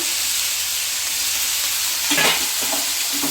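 Onions sautéing in a pan for onion chutney give a steady, close sizzle throughout, with a few louder scraping stirs near the end and no voices.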